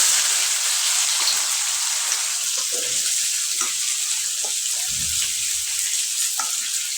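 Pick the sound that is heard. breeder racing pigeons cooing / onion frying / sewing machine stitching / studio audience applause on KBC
onion frying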